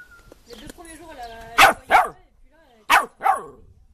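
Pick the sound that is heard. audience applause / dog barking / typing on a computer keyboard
dog barking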